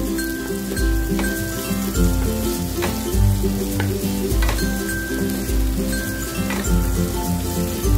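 Spaghetti sauce sizzles steadily in a hot pan as green onion is stirred in, a continuous frying hiss with scraping stir strokes and background tones running throughout, no talking.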